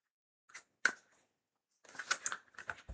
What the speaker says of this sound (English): that's a nice shuffle